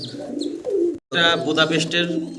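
Pigeons coo at a pigeon farm, including a large male homer pigeon, with several close, throaty coos; a brief dropout breaks them near the middle.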